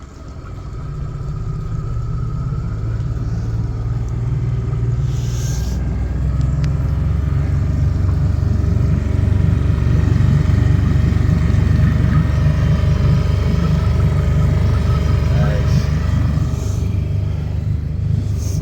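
A repaired motorboat engine runs during a drive, a loud, steady low rumble with churning water noise that holds for the whole stretch, no voices over it.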